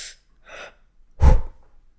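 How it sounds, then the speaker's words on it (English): Breathing picked up close to a microphone: two soft breaths followed by one louder, sharper gasping inhale, alone with no talk. "you can always hear me breathing"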